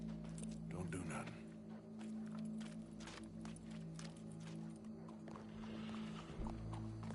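Horse hooves clip-clopping with a whinny in the open-world Western video game Red Dead Redemption 2, quiet under game music and character voices, with steady hoof beats across the scene.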